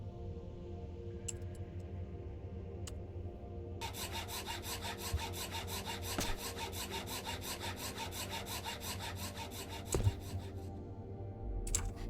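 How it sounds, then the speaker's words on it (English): A hacksaw saws in the video game Cataclysm DDA, a steady rasping loop that runs for several seconds over a quiet background hum, with a couple of faint ticks before it starts. "let's apply the hacksaw here"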